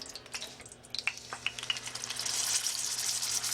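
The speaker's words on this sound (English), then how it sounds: "I have heated up about 1/4 cup of vegetable oil or canola oil, and I want to sear the outside of this roast" A leg of lamb searing in about a quarter cup of hot vegetable oil, a soft steady sizzle with a few sharper crackles that builds slightly toward the end, fairly quiet and close, with no voices.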